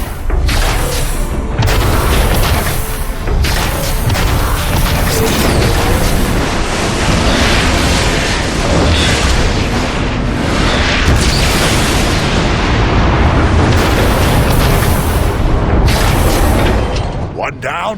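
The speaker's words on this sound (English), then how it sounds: "Metroplex, take out that warp cannon!" Explosions destroy a warp cannon in the Transformers: Fall of Cybertron video game, a continuous barrage of loud heavy booms and bursts layered with crashing debris and game music, dense and sustained throughout.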